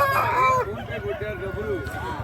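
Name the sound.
rooster crowing at a Nallapadu market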